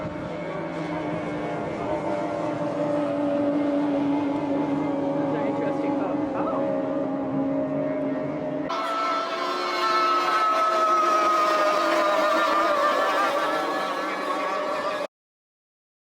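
Outboard motorboats with 50-horsepower engines race past on a river at up to 80 mph in Nenana, Alaska, with a loud, steady whining drone that shifts pitch as they pass, while a voice talks over it.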